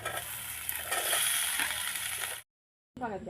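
Potatoes tipped into a pan of onions already frying in oil with panch phoron, giving a loud, steady broadband sizzle that cuts off abruptly into silence, then resumes briefly.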